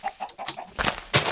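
Chickens clucking in the video game Minecraft, a few short rapid clucks up close followed by louder bursts of clucking and game noise, no talking.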